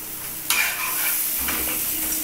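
Poppy seed, sesame and mustard paste with ginger-garlic paste, splashed with water, sizzles steadily in a pan while being stirred, with a sharp burst of scraping at the start and another stir midway.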